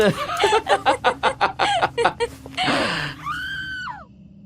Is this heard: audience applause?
no